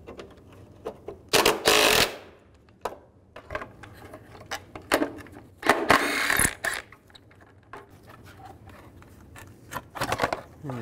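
A 10mm socket wrench loosens bolts on a 2007-2013 Mini Cooper S during turbocharger work, giving bursts of rapid ratcheting clicks separated by quieter pauses, close and fairly loud.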